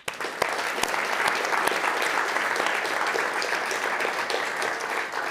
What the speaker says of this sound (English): So just final round of applause for them